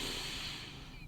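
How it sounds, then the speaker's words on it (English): During a heart chakra meditation, a person draws in a slow, audible breath, a soft close breathy hiss lasting about a second that fades toward the end. "maybe you start to allow the breath to become audible"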